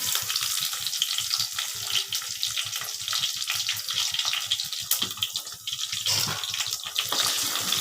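About twenty cloves of crushed garlic frying in a pan for a dry fish fry, a steady close sizzle and crackle with faint stirring scrapes throughout and no voices.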